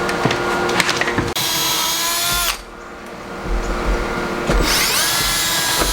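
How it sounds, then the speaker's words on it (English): Power drill pre-drilling a hole in an oak door frame during a log cabin build: a loud, close whining motor runs steadily, cuts off abruptly, then after a brief pause spins up again with a rising pitch. "Now he's pre-drilling the hole because it's oak and he don't want it to split on you."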